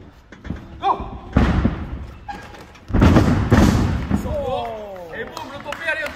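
Wrestler landing a lucha libre tope dive at a wrestling school, two heavy close thuds on the ring a couple of seconds apart, mixed with shouted coaching and voices.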